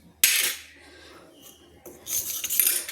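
A metal spoon stirs half a spoonful of turmeric into water in a bowl while cooking a vegetarian ol kopi dalna, giving two close bursts of clinking and scraping with a quieter stretch between.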